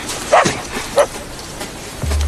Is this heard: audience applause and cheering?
no